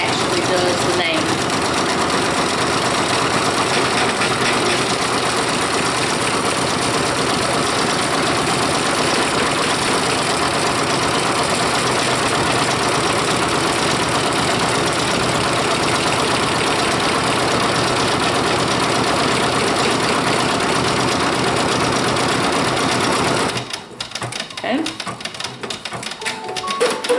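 Brother Persona PRS 100 embroidery machine stitching, a loud close, fast rattling mechanical chatter that runs continuously before stopping near the end into a few faint clicks.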